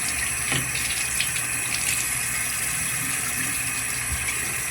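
Hot water running steadily from a bathroom tap before shaving, a continuous close hiss and splash with no speech.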